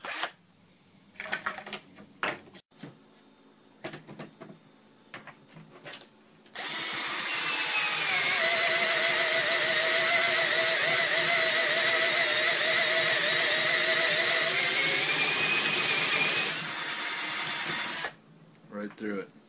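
A Hitachi 10.8V lithium 3/8-inch cordless drill (DS10DFL) whines steadily at high speed for about ten seconds, loud and close, drilling through wood after a few scattered knocks and handling clicks.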